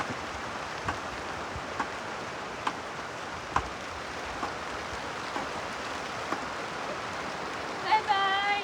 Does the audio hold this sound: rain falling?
yes